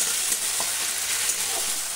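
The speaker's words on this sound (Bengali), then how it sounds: "আদা রসুন বাটাটাও পেঁয়াজের সাথে ভালো করে কষে নিতে হবে" Onion and ginger-garlic paste sizzle in hot oil while being sautéed and stirred, a loud, steady, close hiss with faint scraping of the spoon.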